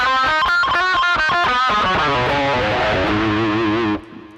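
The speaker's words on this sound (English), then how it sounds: "that's just a great, lead guitar tone, melody" A distorted electric guitar through a Rocktron Utopia G300 multi-effects pedal plays a lead melody, starting with sharp repeated picked notes, then sustained ringing notes with echo and reverb before cutting off.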